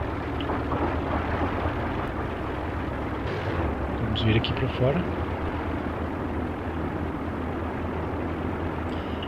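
Twin engines of a Nord Noratlas in the FSX flight simulator run as a steady, loud, broadband drone throughout, with a person speaking over it.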